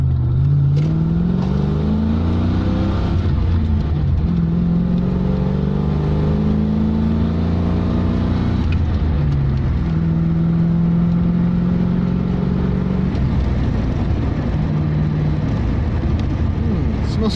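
A Hyundai Stellar car engine drives steadily on a road, its tone rising and falling as the gears change, heard loud and continuous from inside the car.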